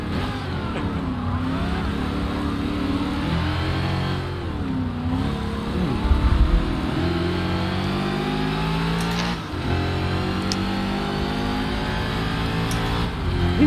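A Ford Mustang engine in Forza revs and roars loudly, its pitch climbing and dropping through gear changes with brief lifts, close and continuous without talk.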